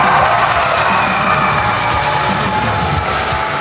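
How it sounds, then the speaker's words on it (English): A wrestling arena crowd at a New South Wrestling heavyweight title match roars for Chase Emery, a dense, continuous wash of cheers and whoops that stays loud throughout. "Listen to this crowd for Chase Emery."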